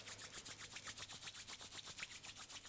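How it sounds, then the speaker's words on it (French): Hands rubbing briskly together during a self-massage exercise: a quick, regular series of soft swishing strokes, about seven per second, close and quiet, with no talking. "Allez, on frotte bien les mains l'une contre l'autre."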